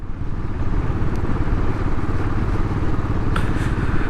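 A Royal Enfield Classic 500 motorcycle rides along at about 37 mph, its engine a loud, steady low thrum with continuous road and wind rumble.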